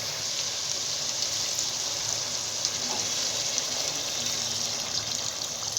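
Water pours into a hot pan of fried yellow carrots for shaule, giving a steady rushing, sizzling hiss that holds evenly throughout, close and fairly loud.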